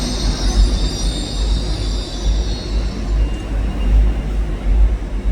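A Class 158 diesel train arriving at York station, a loud continuous rumble of wheels on rail with a steady low engine drone and a thin high squeal of wheels above it, close by and with no talking.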